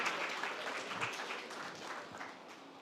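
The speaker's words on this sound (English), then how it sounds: "So a round of applause for Nevaziuoja" Sustained audience applause at a startup pitch battle as the next presenter takes the stage, a dense even wash of many hands clapping throughout.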